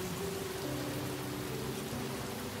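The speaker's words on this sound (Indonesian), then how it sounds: "Hujan ini." Steady rain falls as a dense, even hiss throughout, with a low background hum and tonal murmur beneath it and no break in the wash of sound.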